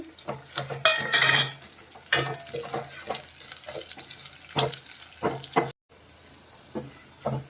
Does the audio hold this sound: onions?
yes